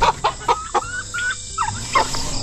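A rooster clucks and calls up close on a backyard farm, several sharp bursts followed by drawn-out warbling squawks, loud and alone.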